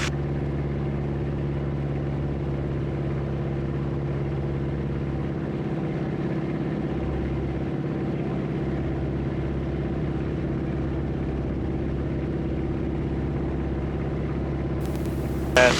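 Steady droning engine hum from a Super Cub small airplane, with strong low harmonics, continuous and loud throughout, no voices.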